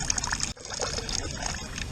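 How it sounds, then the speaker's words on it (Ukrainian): Water trickling steadily from a lion's-mouth spout on a public fountain in Opole, Poland, a continuous close splashing flow that briefly drops out near the half-second mark before resuming. "Тут закручую, починає текти вода."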